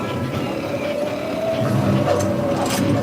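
A studio tour tram at Universal Studios Hollywood rumbles along in a steady, loud low drone with faint rattles, heard from on board.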